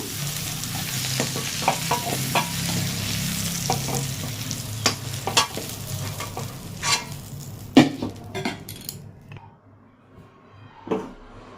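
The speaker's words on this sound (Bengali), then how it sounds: "আলু পটলটা ভাজা হয়ে গেছে" Potatoes and pointed gourd fry in a pan with busy, close sizzling and frequent scraping stirs. The crackle thins out toward the end, leaving a few sharp utensil knocks.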